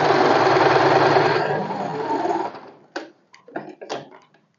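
A sewing machine runs steadily for about two and a half seconds stitching folded blouse fabric with a lining underneath, then slows and stops, followed by a few short handling clicks and rustles.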